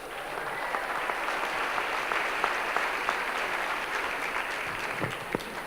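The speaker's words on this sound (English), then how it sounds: "You should give yourself an applause." Audience applause at a Houston sports awards show, a broad continuous patter of many hands from a large crowd, steady and somewhat distant, with occasional sharper claps near the end.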